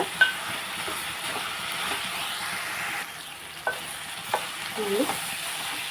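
Potato curry frying in a pan while being stirred, with a steady sizzle, soft scraping strokes and a few light knocks of the spoon against the pan, no voices.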